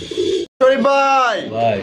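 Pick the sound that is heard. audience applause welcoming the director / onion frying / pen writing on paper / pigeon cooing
pigeon cooing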